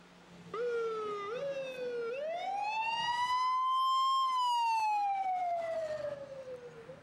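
A Red Cross ambulance in Costa Rica wails with a siren that rises in pitch, then slowly sweeps down in one long tone, clear and moderately distant, with no voices over it.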